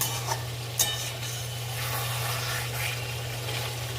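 Punjabi chicken khosa masala fries in oil with a soft, steady sizzle and a constant low hum, broken by a couple of faint stirring knocks near the start.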